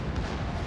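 Heavy naval gunfire from a St. Louis cruiser in a World of Warships sea battle: a brief, dense, rumbling blast of shell fire that fills the whole moment at steady loudness.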